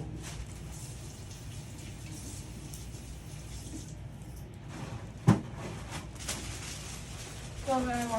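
Tap water runs steadily into a sink during hand washing in a clinical exam room, a soft continuous rush with a sharp knock partway through and faint voices in the background.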